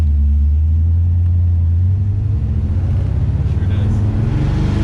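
A 1955 Chevy Bel Air with a cammed 350 small-block V8 of about 380 horsepower, loud and close, a deep lumpy idle rumble that builds into choppy pulsing revs.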